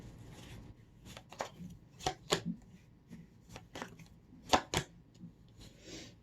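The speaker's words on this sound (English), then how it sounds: "let me pull a few tarot cards" Tarot cards are shuffled and pulled from the deck in a quiet room, bursts of riffling and sharp snapping flicks separated by brief pauses.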